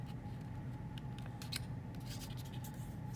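A sheet of origami paper is folded corner to corner for a samurai fold, soft scratchy crinkles and brief sharp creasing sounds over a quiet room hum, close and faint, with no talk.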